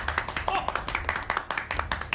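A studio audience at the televised singing contest Singer 2017 claps in a quick, uneven patter of close, sharp hand claps, with a little voice mixed in.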